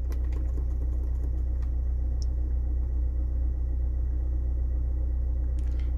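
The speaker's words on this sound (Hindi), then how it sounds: "तो मैं अभी गाड़ी स्टार्ट कर दिया हूँ" Hyundai car engine already started and idling during an air-conditioning repair, a steady low rumbling idle heard close with faint clicks and a thin high whine, no speech.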